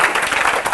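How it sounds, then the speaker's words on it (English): A live hypnosis-show audience applauds a volunteer named Ken, a dense close burst of many hands clapping steadily with no voices over it. "Would you give Ken a round of applause for being so brave?"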